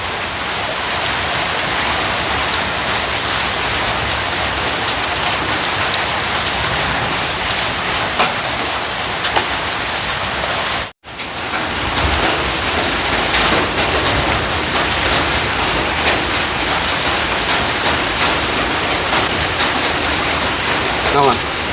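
Steady, heavy rain pours down continuously in a dense hiss with a brief dropout midway, and voices talk faintly beneath the downpour.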